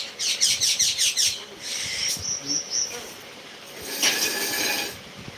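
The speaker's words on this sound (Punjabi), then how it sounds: "ਚਿੜੀਆਂ ਦੀ ਤੁਸੀਂ ਆਵਾਜ਼ ਸੁਣ ਰਹੇ ਹੋ" Sparrows chirp outdoors in quick repeated bursts at the start, then scattered tweets and a brighter flurry near the end, moderately close with no talk over them.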